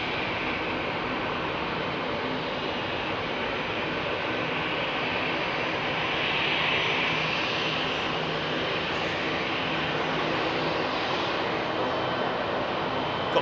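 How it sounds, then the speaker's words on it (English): Propeller aircraft flying past at Heathrow Airport, a steady broadband drone with a gentle swell near the middle, heard at moderate distance. "Oh, nice sound of a prop"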